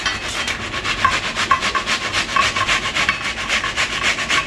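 Cabbage being grated by hand for paratha filling, a steady run of quick, even rasping strokes close by with no voices.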